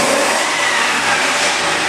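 A 2005 Chevy 6.0 LS engine with 189K miles, running without a mass airflow meter, revs loud and close in a continuous, even roar with no talk.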